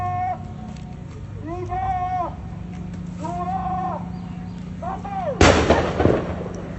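A sudden loud blast bursts out in an apartment parking lot after several bleating animal calls, its rumbling tail fading over about a second against steady background noise.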